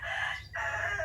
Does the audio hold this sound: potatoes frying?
no